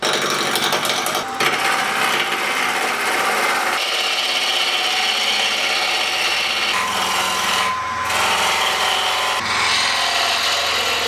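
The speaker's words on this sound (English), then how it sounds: "So I found a little block of wood and I just need to cut it." A small block of wood is cut in a workshop, producing a continuous rasping, grinding tool noise with shifts in pitch and intensity as the blade bites and the piece moves, loud and close without any talking.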